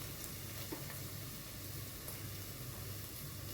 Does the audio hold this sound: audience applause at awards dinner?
no